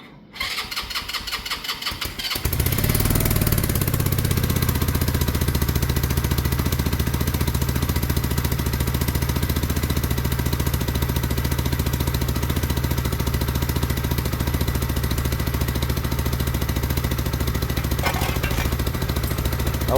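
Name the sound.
engine idling while the oil circulates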